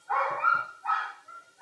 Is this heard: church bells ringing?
no